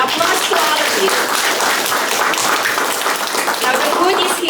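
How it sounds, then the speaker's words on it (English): An audience applauds at a Lions club gathering, dense continuous clapping that holds steady and fairly loud throughout. "Applause to all of you."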